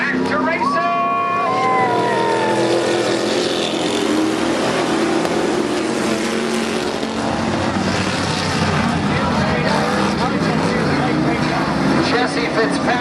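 IMCA stock cars and trucks roar around a race track as racing resumes under green flag, a loud continuous blend of engines with rising whines early on and a public-address commentator talking over the noise.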